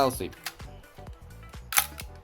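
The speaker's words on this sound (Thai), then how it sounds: "ต่อไปสปีดชัตเตอร์ 90" Several crisp shutter clicks from a Nikon FE film camera set to 1/90 speed, in quick succession, close up, with a brief voice at the very start.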